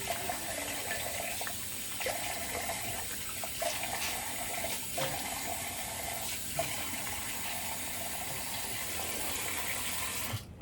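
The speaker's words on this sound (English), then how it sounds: "and a little rinse" Running water from a tap rinses a razor or face during a wet shave, a steady broadband rush that holds for about ten seconds with small surges, then cuts off abruptly at the end.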